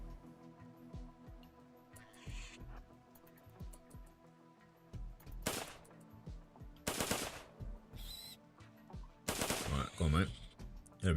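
Assault rifle shots in the game Rimworld crack out in several short, separate volleys over a quiet background hum, with soft ambient ticks between them.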